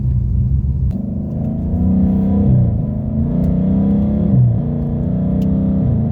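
A Ford Mustang engine rumbles and climbs in pitch under manual shifting, the revs dropping briefly at each gear change before building again, steady and close.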